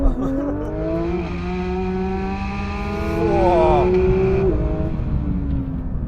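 A Porsche 911 GT3 engine roars loud and close, its revs climbing and stepping through several pitch sweeps in a rising, snarling run before settling back.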